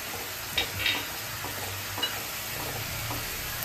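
Raisins dropped into spice masala sizzling in a pan for shemai potol, the steady frying hiss broken by a few soft stirring scrapes, close and continuous with no talk.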